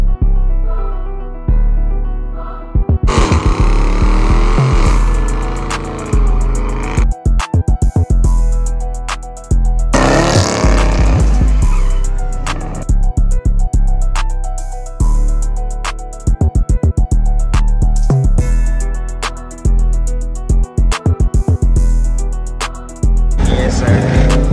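Straight-piped Dodge Challenger R/T with a Hemi V8 cold starting: a loud crank and catch into a harsh, heavy rumble, with repeated revs and choppy idle bursts that stay very loud and close.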